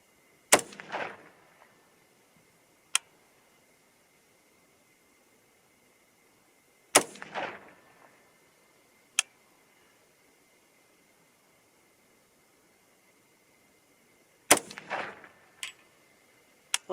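A .300 HAM'R rifle fires at a target, three sharp, loud shots spaced several seconds apart, each trailing a brief echo, with faint clicks between shots and quiet in between.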